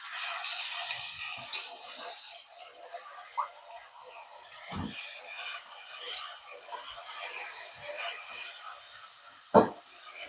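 Brinjal pieces tipped into hot oil in a pan for a Telangana chickpea and eggplant curry, a bright hissing sizzle that swells and fades, with a couple of sharp knocks against the pan.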